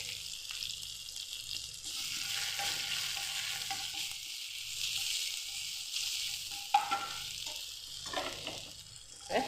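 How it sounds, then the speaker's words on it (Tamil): Ginger garlic paste sizzles steadily in hot oil with mint, green chilies, curry leaves and coriander for fried rice, a continuous close hiss with a few brief clinks and scrapes of stirring. "இப்போ இஞ்சி பூண்டு பேஸ்ட்டு சேர்த்துடலாம்"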